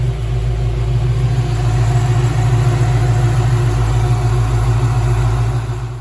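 A 1979 Chevrolet El Camino SS engine idles steadily, a close, continuous low rumble with an even hum and no voices.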